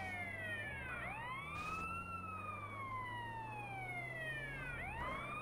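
A police siren from the GTA San Andreas video game wails with rising and falling sweeps over a low engine rumble, loud and close for the whole clip with no talk.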